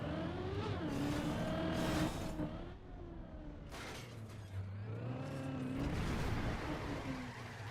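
Video game car driving, a steady engine drone rising and falling in pitch as it revs and shifts, continuous and fairly quiet.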